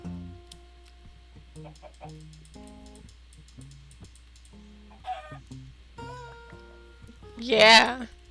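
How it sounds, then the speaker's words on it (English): A chicken in the Minecraft video game clucks in short repeated calls over steady game background tones and soft ticking, with a louder burst of sound near the end. "A chicken."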